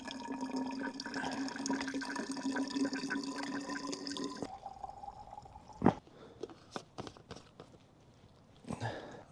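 Cold water pours from a stream into a Nalgene bottle while backpacking in bear country, a continuous filling gurgle that stops midway, followed by scattered drips, clinks and handling knocks.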